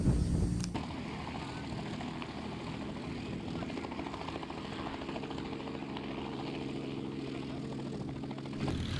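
Historic propeller aircraft at Old Sarum airfield in Wiltshire, a steady droning engine rumble holding for several seconds, fairly close and continuous, with a sharp knock near the start.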